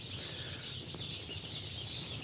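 Sonali super hybrid chicks in a brooder give faint, high, repeated chirps over a low steady background hum.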